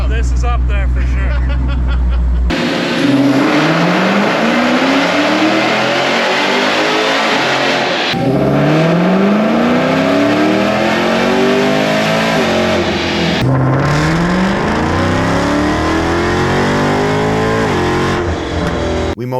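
High-horsepower car (Hellcat, Z06, M3 Competition or Explorer ST) on a dyno during testing, revving hard through rising gear pulls with loud engine roar and tire spin, faint voices in the background.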